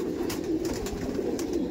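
A pair of Andhra pigeons of the fulshira type coo in a low, steady rumbling murmur close by in a loft, with a few faint brighter chirps and clicks on top and no voices.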